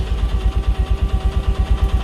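A vehicle engine idles close by at night, a loud, regular low throb pulsing several times a second, with no talking.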